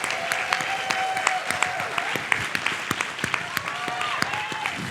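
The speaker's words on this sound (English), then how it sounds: "applause for Kevin Johnson?" An audience applauds and cheers for Kevin Johnson at a hip-hop and comedy talk event, dense clapping with sharp individual claps standing out and some voices mixed in.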